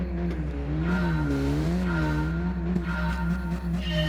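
A car in the racing game Gran Turismo 7 accelerates through a manual gearbox, its engine droning loud and steady with pitch climbing and dropping across gear changes, continuous and close throughout.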